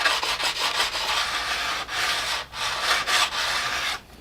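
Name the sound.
rubbing snowboard edges to remove rust and burrs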